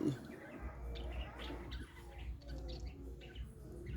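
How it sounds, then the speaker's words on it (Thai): Budgerigar chicks chirping in soft, scattered high tweets, quiet and close over a low steady background hum. "ลูกนกหงยก"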